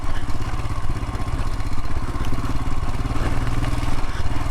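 Royal Enfield Himalayan motorcycle riding along a road, its single-cylinder engine thumping steadily close up with a continuous low rumble and some clatter, no talk over it.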